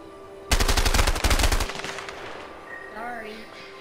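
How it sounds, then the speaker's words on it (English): A loud burst of rapid automatic gunfire in the video game A Way Out, about a second of close shots that fades into a ringing tail, followed by a brief voice. "You shooting at me?"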